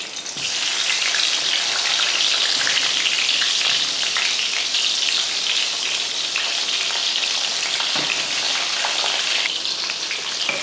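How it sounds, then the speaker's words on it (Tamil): Loud, continuous hissing of eggplant frying in hot oil, a dense steady sizzle close by with faint crackles. "எண்ணெய் காஞ்சதுமே நம்ம கத்திரிக்காயை போட்டு வறுத்து எடுத்துடலாம்"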